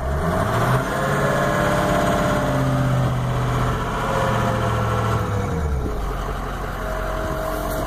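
A 2006 Ford F-350 XLT dually diesel service truck with a utility box runs steadily, its engine rising in pitch as it is revved, then settling back toward idle, loud and close.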